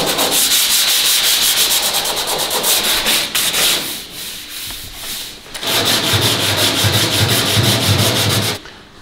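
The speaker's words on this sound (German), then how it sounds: "schleifen das gleich noch einmal über" Steady, loud abrasive sanding on the metal car body of a BMW E36 M3, rasping in rapid strokes, pausing briefly midway before resuming and cutting off at the end.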